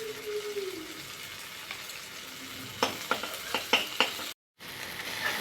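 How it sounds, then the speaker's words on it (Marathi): Chili powder frying in hot oil, a continuous sizzle with a brief low tone early on, then a run of close spoon scrapes and taps against the pan, interrupted by a moment of silence before the hiss returns. "मग त्याच्यात मिरची पावडर टाकायची आपल्याला, म्हणजे ते तेलामधून परतून निघतं"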